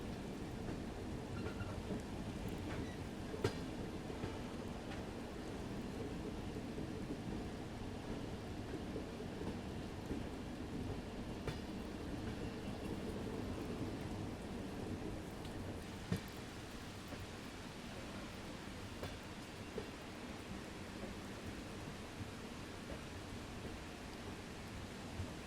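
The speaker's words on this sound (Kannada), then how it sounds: "ವಾಹ್, ಏನು ಮಳೆ ಬಂತು ನಮಗೆ." Heavy monsoon rain pours steadily outside a Vistadome train coach on the Bengaluru to Mangaluru route, with faint rumbles of thunder beneath a constant, even wash of rain and no talking.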